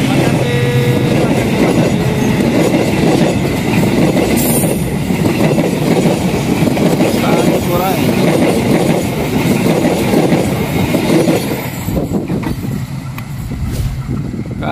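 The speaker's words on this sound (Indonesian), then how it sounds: "Detik-detik KA Cikuray melintas di jembatan Cimanuk ini" The KA Cikuray passenger train crosses the Cimanuk river bridge in Garut, a loud, close, continuous rumble of rail cars with clattering wheels and brief squeals, heard steadily throughout.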